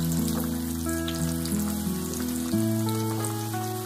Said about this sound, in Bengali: আলুগুলো ফ্রাই করব।